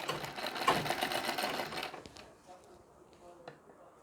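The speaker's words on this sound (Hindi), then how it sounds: "इसके बाद पल्ले में सिलाई लगा लेनी है।" Sewing machine stitching the pallu of a Nauvari saree with fine stitches, a dense rapid whirring run for about two seconds that then stops, leaving faint scattered clicks and handling noise.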